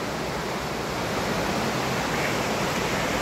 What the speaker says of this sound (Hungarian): ott lehet látni, hogy zúg a patak.